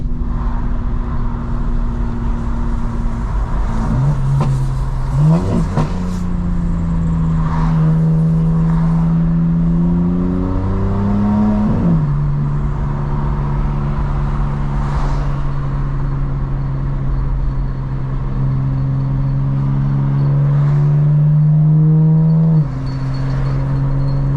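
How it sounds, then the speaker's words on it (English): A nearby truck drones with a loud, steady engine tone that rises and falls in pitch as it shifts and accelerates, heard from inside a 2025 BMW M4 Competition xDrive under continuous road noise. "I heard that for so long and it was that truck."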